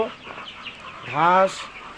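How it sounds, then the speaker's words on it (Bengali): Egyptian Fayoumi layer chicks about 35 to 36 days old cluck close by, with one loud, drawn-out call standing out over quieter background calls. "মুরগির বাচ্চা। এগুলো 35 থেকে 36 দিনের বয়সী।"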